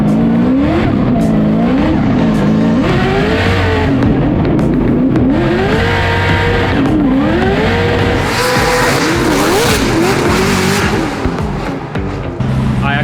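A Formula Drift car on a warm-up run at St. Louis screams through a slide, its engine revving up and down while the tires squeal in long, wavering sweeps, loud and close throughout.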